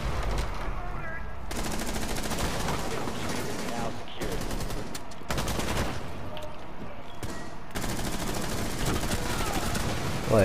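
Rapid bursts of gunfire from a shooter video game, dense and fairly loud, arriving in several volleys separated by brief pauses.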